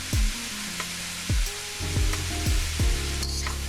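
Chicken, broccoli and carrots sizzle steadily in a hot pan, a continuous frying hiss broken by a few sharp knocks and scrapes of a utensil against the pan.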